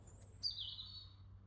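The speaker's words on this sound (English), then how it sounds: "why are the birds so loud?" Birds chirp loudly outdoors, a sharp high call breaking in and trailing off, with a faint earlier tweet before it.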